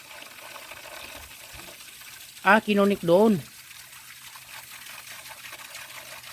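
Water trickles and flows steadily in the background while a person briefly speaks over it.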